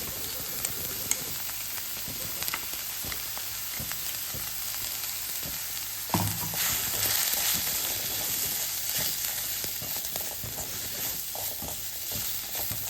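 Freshly ground masala frying in oil, a dense steady sizzle close by with soft stirring scrapes and a brief louder burst partway through.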